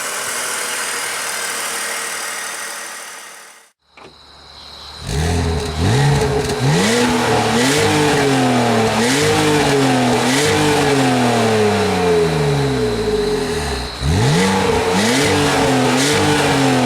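A BMW Z4 3.0i with a 225-horsepower inline six-cylinder engine starting up and revving repeatedly, loud and close, each rise and fall of revs clearly spaced, with no talking.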